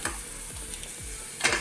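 Green chillies being crushed and cooked on a hot griddle give a steady sizzle with a few soft rhythmic scraping knocks and a sharper clack near the end.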